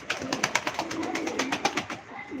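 Pigeons at a live pigeon auction, cooing in a quick, rhythmic series of soft pulsing calls close by, with no talking over them.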